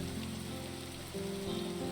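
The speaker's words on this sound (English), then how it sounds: "a torrential rain resembling pure water fell" Torrential downpour in the visual novel game Aoi Shiro, a steady dense hiss of heavy rain with tonal background music layered over it, continuous and without speech.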